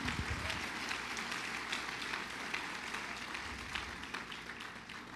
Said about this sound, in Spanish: Si le va a dar un aplauso a Cristo, déselo de verdad.